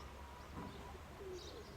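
Pigeons coo faintly in an open-air setting, a few soft low calls over steady background hiss, with no talking.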